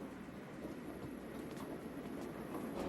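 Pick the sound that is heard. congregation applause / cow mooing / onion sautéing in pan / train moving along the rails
train moving along the rails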